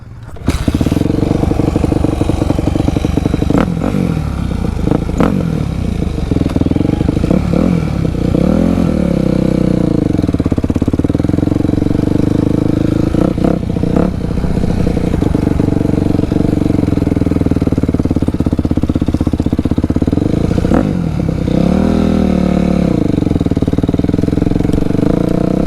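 Dirt bike engines running in a backyard riding area, loud and steady at close range with repeated revs and throttle swells, and voices now and then under the engine noise.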